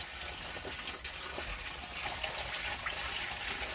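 Water gushes steadily from a bathhouse shower tray down a sewer pipe, a continuous rushing flow heard fairly close, swelling slightly louder partway through with no voices.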